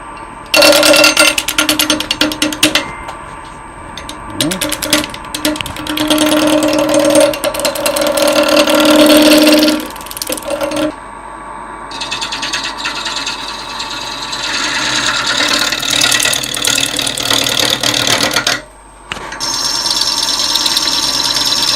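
A wood lathe spinning a workpiece while it is turned into a round ball, loud harsh scraping and rasping in bursts with short pauses between cuts, over a faint motor hum.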